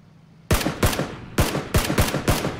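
Seven sharp, loud rifle shots from a Scar assault rifle in PUBG, fired in quick uneven bursts, close and punchy with short echoing tails and no talking.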